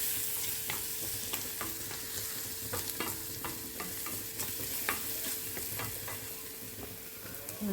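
Turmeric being stirred into vegetables frying in a pan for a vegetable biryani: repeated scraping strokes of a spoon against the pan over a steady sizzle, close and fairly loud, with no talking.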